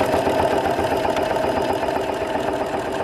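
A Janome Continental M7 sewing machine runs steadily at speed, stitching through eight layers of denim with an even, rapid mechanical chatter and whir that is close and loud throughout.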